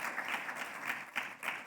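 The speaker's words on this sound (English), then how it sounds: "I'm reclaiming my time from these claps" An indoor audience at a community talk claps steadily. The dense applause carries no voices.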